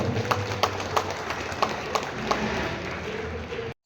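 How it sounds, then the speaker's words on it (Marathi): Audience at a foundation get-together in Bhandara clapping, heard as a steady patter of hands with a few sharper claps standing out, stopping abruptly near the end. "एकदा जोरदार टाळ्या वाजवा यांच्याकरता सुद्धा"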